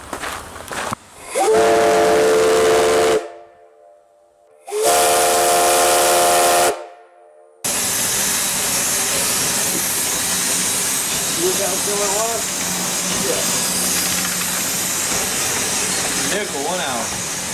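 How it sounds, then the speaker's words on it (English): Five-chime steam train whistle fed by a small boiler blows in two loud sustained chord blasts, each cut off sharply, followed by a long steady hiss of steam with voices talking faintly beneath. "the whistle seems to be working good. I'm going to blow it once real quick"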